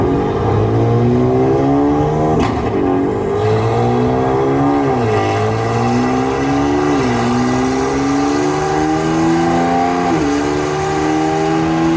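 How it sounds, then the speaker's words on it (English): A BMW M3 F80 with the S55 engine revs repeatedly through its exhaust, loud and close, each rise in pitch followed by a drop back to idle in a steady cycle of blips. "the goal of today is just to make the best sounding S55 exhaust note"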